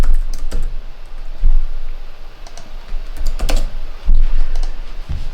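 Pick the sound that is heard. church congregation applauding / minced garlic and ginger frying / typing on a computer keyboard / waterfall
typing on a computer keyboard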